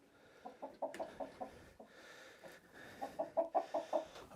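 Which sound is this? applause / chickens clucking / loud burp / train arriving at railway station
chickens clucking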